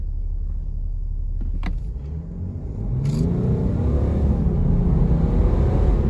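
A 2018 BMW 540d xDrive G30 diesel accelerates hard, its engine swelling into a deep, rising roar as the turbo spools up. The sound is steady, loud and close, with a short whir near the start and no talk.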